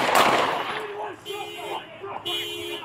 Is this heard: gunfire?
yes